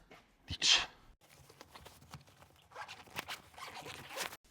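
Velcro hook-and-loop fastener pressed and pulled on a camper awning: one sharp ripping tear near the start, then softer rustling and scratchy fabric handling with several quick tearing bursts later.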